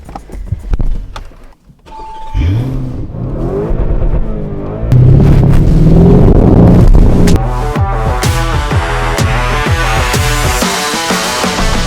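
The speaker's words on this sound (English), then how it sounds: "I'm about to floor the Lamborghini Urus Performante." A Lamborghini Urus Performante is floored from a near standstill, its engine climbing loudly through rising revs, with a shift and a sustained high-pitched roar that stays close and dominant, no voices.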